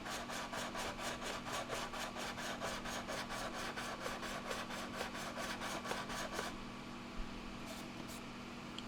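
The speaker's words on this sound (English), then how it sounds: "I'm sanding shit" Sandpaper rubbed back and forth on the bodywork of a scale A-6E Intruder model, with quick, regular, close scraping strokes for about six seconds before stopping, then a few faint knocks and a low steady hum.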